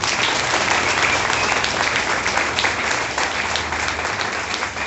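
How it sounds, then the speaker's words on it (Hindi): A large audience at a network marketing event claps loudly and continuously, a dense sustained roar of applause without pause. "इसके लिए भी जोर से ताली बजाइए"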